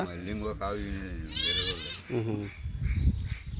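A young calf's wavering bleat rises briefly amid people talking nearby, close and moderately loud.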